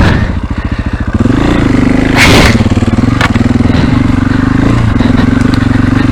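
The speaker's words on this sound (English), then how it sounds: "bike crawling forward on the clutch" A motorcycle creeps forward in gear on a slipping clutch, its engine chugging in a low, steady rhythm up close, with a brief rev swell and a few clattering knocks partway through.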